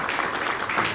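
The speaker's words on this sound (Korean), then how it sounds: "박수 부탁드립니다." Audience applause at a church social mission policy conference, a steady wash of clapping from a crowd lasting the whole moment.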